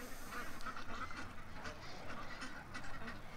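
Ducks quacking near water, a scatter of faint nasal calls over a noisy outdoor background.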